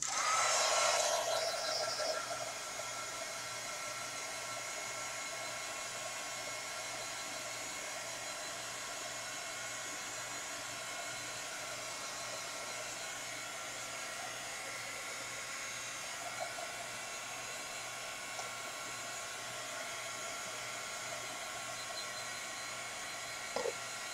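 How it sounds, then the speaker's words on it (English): A hair dryer runs continuously with a steady, whirring roar, slightly louder at the start, then holding an even drone with no talking. "All right, where are you, blow dryer?"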